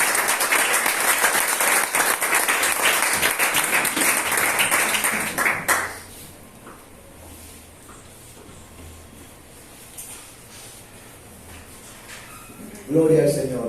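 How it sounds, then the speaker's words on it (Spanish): Church congregation applauding during a worship service, a loud dense burst of many hands lasting about six seconds before cutting off abruptly into quiet room tone, with a short voice near the end. "Un aplauso al Señor."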